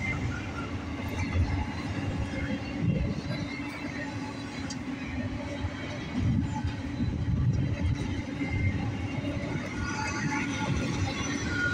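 A northbound CSX doublestack intermodal freight train rumbles steadily past a crossing at Stewart, a continuous heavy roll of wheels and cars, loud and close throughout with no voices.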